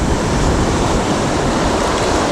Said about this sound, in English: Water rough, man. Too rough.